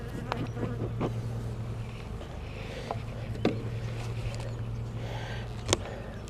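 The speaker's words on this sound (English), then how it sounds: "Got plenty of bees up here." Honey bees buzz steadily around the hive during a hive inspection, a dense drone with individual insects zipping close past now and then.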